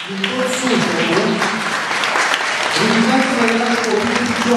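Steady applause from an audience at a cultural centre event fills the whole stretch, with a voice speaking Romanian over it through most of the clip.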